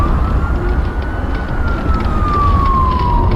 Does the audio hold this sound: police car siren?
yes